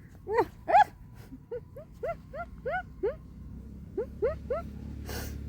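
A tiny abandoned puppy at a market gives a series of short high whimpers and yelps, about a dozen rising cries in irregular bursts, close by with faint background noise.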